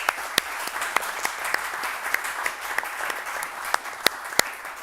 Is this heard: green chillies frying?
no